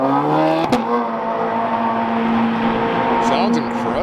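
A new Chevrolet Corvette Z06 drives by, a loud steady engine drone with a rising and falling pitch and a sharp knock early on, close up.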